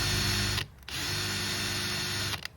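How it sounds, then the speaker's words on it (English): Handheld drill boring a small pilot hole for wood screws in a piece of wood on an old Gameboy case, a loud steady whine in two bursts, the first short and the second about a second and a half long, separated by a brief pause. "I'm just drilling a little hole to make it easier for the wood screws to go in"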